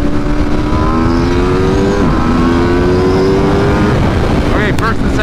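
An Aprilia RSV4 Factory 1100 with a flashed ECU screams on a dyno, loud and close, its engine note climbing steadily through first gear, dipping at the shift, then rising again through second.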